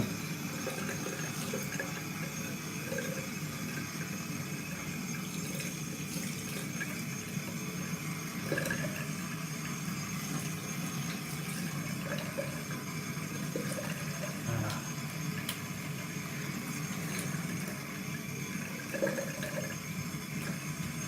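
Running water flows steadily to rinse soap out, a continuous soft splashing stream with occasional small drips and bumps, close by and without voices.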